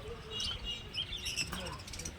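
Birds chirp and tweet in bursts, a busy chorus of small lovebirds at the Garia bird market, against a noisy market hum, with voices faintly mixed in.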